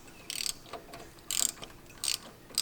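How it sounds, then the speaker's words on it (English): A ratcheting socket wrench turns the spark plug on a John Deere 125 riding mower, three quick bursts of close metallic clicking separated by short pauses. "You have the spark plug socket. Wrench, just put that in there."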